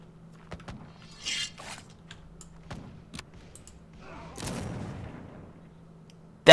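Ship cannons in the pirate game Caribbean! fire in a few sharp isolated booms. A longer rumbling blast with crackling debris follows near the end, set against quiet game sounds and some faint clicks.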